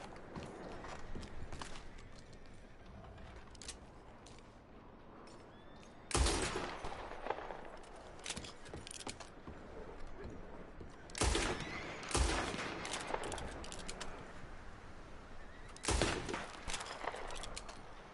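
Gunfire in the video game Red Dead Redemption 2, with several sharp shots cracking at intervals over quiet outdoor ambience and soft movement sounds, each report loud and abrupt against the low background.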